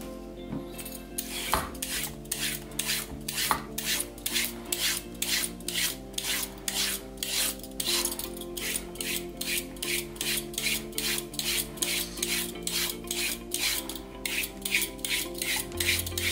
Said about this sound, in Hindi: कैरेट को भी हम पील कर लेंगे।